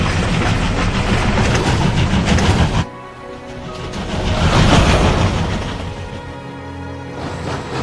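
A train pulls into a station in World of Final Fantasy, a loud rumbling rush that drops off suddenly, then swells again as the cars roll and clatter past, with no voices.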